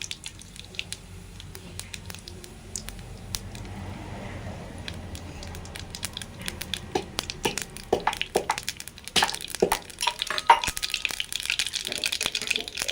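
Cumin and mustard seeds temper in hot ghee, first as a faint crackle that builds into busy, sharp popping and sizzling near the end.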